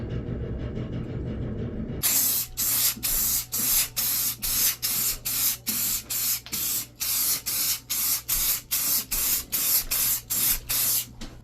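Spray gun coating aluminum hood louvers for a Fiero GT, a quiet lead-in giving way to a steady run of loud, evenly pulsed hissing bursts, each pass cut by brief pauses, close and with no talking.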